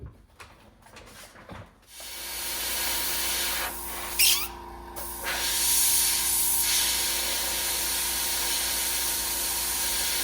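Clear coat sprayed from a can onto a hockey goalie mask, a short burst of hiss, then a brief pause and a long, steady close spray hiss, with faint rattling and handling noises at the start.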